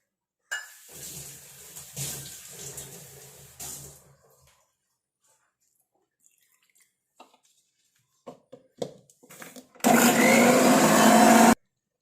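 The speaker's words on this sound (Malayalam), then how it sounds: "പച്ചവെള്ളം ഒഴിച്ച് അരച്ചാൽ പേസ്റ്റ് രൂപത്തിൽ അരച്ചെടുക്കണമെന്നേ ഉള്ളൂ." A mixer grinder whirs loudly for a short burst near the end, blending herbs with plain water into a green paste for homemade hair dye, after quieter kitchen clatter and a voice.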